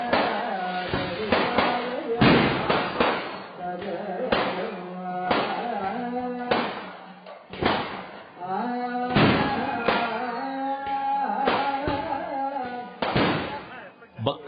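Firecrackers set off as offerings at a Kerala temple festival: a rapid series of sharp, loud blasts, roughly a dozen, going off one after another with voices heard between and beneath them.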